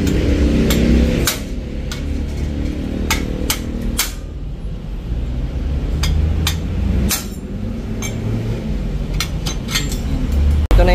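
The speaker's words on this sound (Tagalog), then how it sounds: "gamit kayo ng sinsil tsaka martilyo para may angat itong" Repeated sharp metallic strikes of a hammer driving a chisel into the muffler tip of a Rusi TC 150 motorcycle exhaust, irregular clanks over a steady low background rumble.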